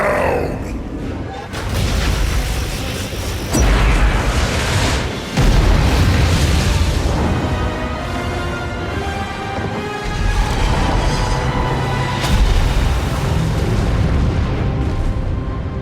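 Heavy booming artillery blasts from the Legion's guns in a World of Warcraft cinematic on Argus, a run of loud, rumbling explosions layered with dense battle noise and voices throughout.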